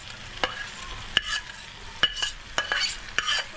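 Chicken pieces for chicken chaap, coated in marinade masala, are stirred in a frying pan with a spoon, giving irregular scraping clacks over a soft, steady sizzle.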